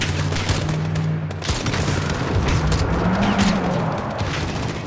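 Gunfire rattles through a firefight in Call of Duty Modern Warfare, with dense repeated shots and booming blasts over a steady low hum, loud and continuous across the whole stretch.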